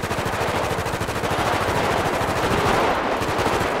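Rapid automatic gunfire rattles without pause in a favela gang attack in a video game, a loud dense stream of shots filling the whole stretch.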